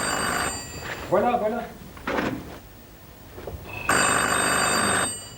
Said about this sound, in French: Mais je crois que le téléphone...